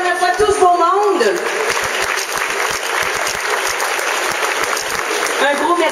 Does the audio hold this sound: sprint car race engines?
no